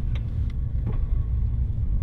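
A manual-transmission car's engine idles in neutral with the clutch held in, a steady, loud, close low rumble with no talk.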